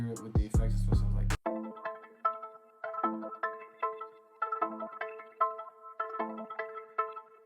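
Repeating synth note in an FL Studio trap beat, run through a Portal phase preset with a FabFilter EQ cutting the lows, plucking in a steady rhythmic pattern with delay-like textures after a brief loud opening burst.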